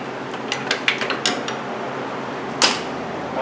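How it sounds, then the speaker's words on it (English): Metal clicks and creaks from a wrench tightening a 19 mm bolt on top of the rack and pinion of a 2000–2006 Toyota Tundra, a few sharp ticks early on and one louder clank later, with no talking. "we're going to tighten up that bolt right up on top right there"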